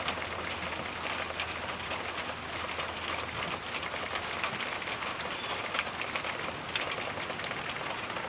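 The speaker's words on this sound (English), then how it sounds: "It is raining" Steady rain falling outdoors on a tile-cutting job site, a constant hiss with scattered brighter patters and drips throughout.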